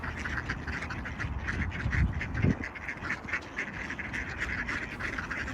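Hungry ducks quack steadily and busily, close by, while eating scattered seeds, cereal and bread pieces outdoors, with overlapping calls and faint rustling throughout.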